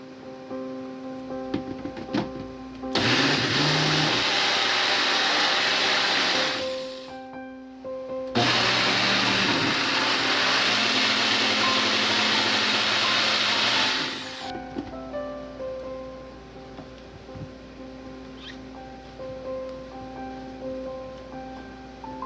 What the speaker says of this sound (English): it's ready to go into the blender. Let's get that blended up.